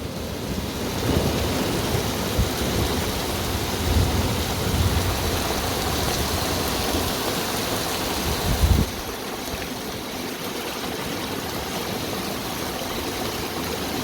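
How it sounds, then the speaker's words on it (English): Heavy rain pours steadily during a UK thunderstorm, a dense constant hiss with rumbling thunder underneath and one sharper crack partway through. "It's raining cats and dogs, as we say in the UK."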